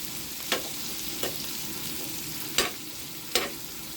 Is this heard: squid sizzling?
yes